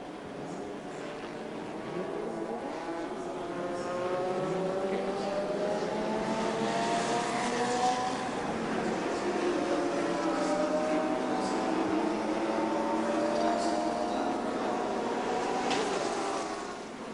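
A former NASCAR race car laps the Dubai circuit during the Dunlop 24H Dubai endurance race, its engine note rising and falling as it drives past, steady and fairly loud for most of the stretch.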